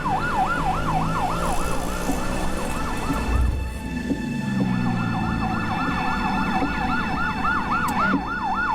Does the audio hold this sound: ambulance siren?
yes